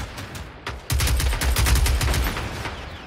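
Gunfire in the video game Generation Zero, including a sniper rifle fired from long range: a rapid string of loud shots that quickens into dense, near-continuous bursts after a sparse opening, no voices.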